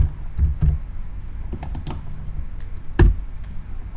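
Typing on a computer keyboard while writing code, scattered key taps in short irregular bursts with a couple of louder strokes, close and steady over a low background hum.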